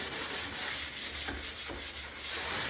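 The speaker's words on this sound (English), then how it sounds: "Just slightly hit them with sandpaper." Sandpaper rubs by hand along the back edges of a Journey arcade cabinet under restoration, a steady close-up scratchy hiss with faint rhythmic back-and-forth strokes, no talk.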